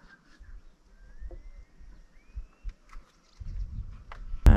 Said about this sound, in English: You can just hear the birds singing